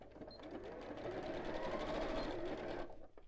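Sewing machine stitching straight across layered fabric with raw edges aligned, a steady close whir running continuously for about three seconds before stopping.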